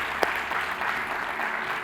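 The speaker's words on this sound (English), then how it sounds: "a big applause to all of them" A crowd applauds at the closing plenary ceremony of a conference, a steady wash of clapping filling the room. Lasting under two seconds, it stays loud and even throughout.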